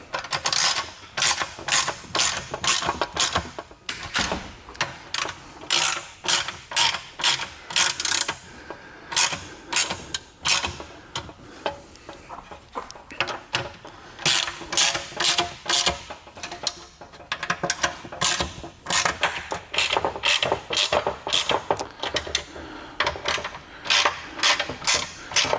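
Ratchet wrench tightening bolts on a Vyper garage creeper, a steady run of quick metallic clicking strokes in repeated bursts with brief pauses between them, close and fairly loud, no talking.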